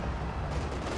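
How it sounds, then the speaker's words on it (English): A Panther tank fires its cannon in the World War II strategy game Company of Heroes 2. The shot is a loud, dense, continuous boom that fills the whole moment, with no speech. "the cannon for shot does in fact bounce."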